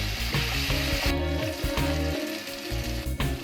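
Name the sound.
tomatoes sautéing while being stirred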